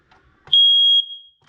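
Hardwired smoke detector pressed for a test after replacement: one loud, piercing, steady high beep of about half a second, with faint handling clicks before and after.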